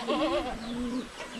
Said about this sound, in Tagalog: Yung mga kambing natin, oh, bumaba na sila sa lupa